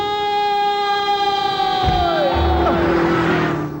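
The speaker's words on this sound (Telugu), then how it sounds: "ఆరినెట్టండి బాబు, సైరన్నే కొట్టాడు." A siren wails loudly and steadily through a Telugu film comedy scene, its sweeping tone bending downward near the end with some background noise underneath.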